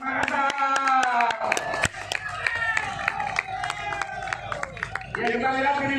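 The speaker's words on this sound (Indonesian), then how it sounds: "Ternyata tepuk tangan buat Makassar." Scattered claps from a crowd at a rescue skill competition, Survival Bantul 2020, greeting the Makassar team. The clapping is moderately loud and runs under steady talking and crowd noise.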